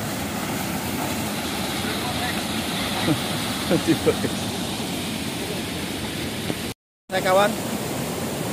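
A waterfall at Begoh dam roars as a steady broadband rush throughout, with a few brief bird-like chirps rising above it and a short cut near the end, while a voice speaks briefly.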